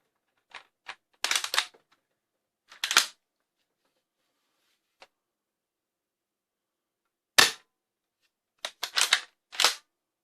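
Nerf Pro Gel Fire Ghost Blaster shooting gel rounds with its barrel extender attached, heard as a series of sharp, snappy pops in short bursts with quiet gaps between them, close and fairly loud, with no talking.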